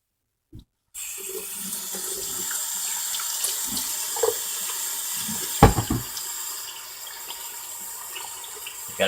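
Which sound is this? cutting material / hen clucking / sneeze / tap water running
tap water running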